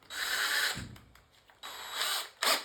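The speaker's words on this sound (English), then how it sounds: "So we're going to go ahead and drill this" A power drill with a 5/16 inch bit runs in short bursts while drilling holes during assembly of an arcade control panel. The whine is fairly faint and starts and stops with brief pauses in between.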